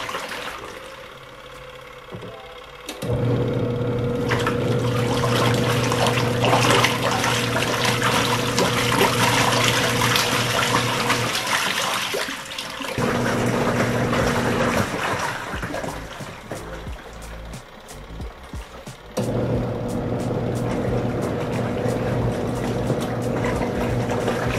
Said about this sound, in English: So I usually just set all of my clothes to wash on the high cycle.